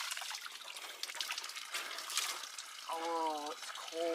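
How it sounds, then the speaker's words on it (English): A roadside spring fountain used by Camino pilgrims trickles and splashes in a soft continuous stream, with brief tonal voice sounds breaking in near the end. "Here we are at a water source by the side of the road."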